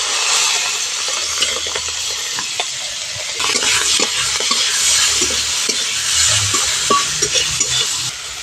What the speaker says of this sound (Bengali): এই তেলের মধ্যেই চিংড়ি মাছটাও ভেজে নেব।